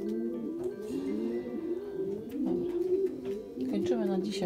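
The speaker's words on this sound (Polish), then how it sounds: "Daj gołąbkom spokój." Pigeons in a loft give repeated soft, throaty coos in overlapping phrases, close and steady, with occasional rustling and a faint voice in the background.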